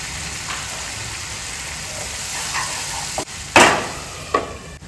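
Chicken curry cooking in a pan with water and salt added, giving a steady background sizzle broken by a few louder bursts of stirring or spatula scrapes.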